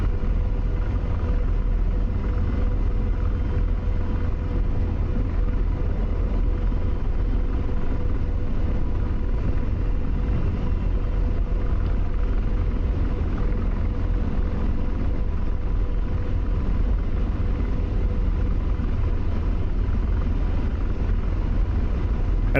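An AH-64D Apache Longbow attack helicopter with its mast-mounted radar, flown in the DCS combat flight simulator, holds a steady, heavy rotor and turbine drone throughout, loud and unbroken, with no voices.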